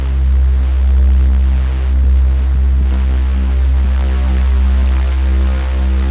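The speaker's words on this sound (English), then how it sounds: "Without the FM, this bass sounds like this." A deep, steady synthesizer saw-wave bass tone without FM hums continuously with a slow throbbing pulse, plain and without any bright overtones.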